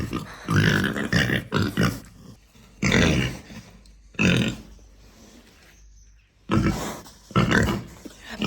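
Pietrain cross pigs at the Yorkshire show give close, loud grunts in irregular bursts separated by short pauses, with no talking.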